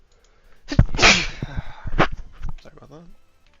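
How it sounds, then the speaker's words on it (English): A single loud, close sneeze bursts out, followed by a brief second burst and some muttered talk afterward. "I don't know why I'm sneezing so much today."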